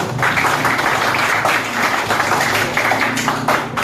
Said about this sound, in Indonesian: tepuk tangan dong untuk kelas ini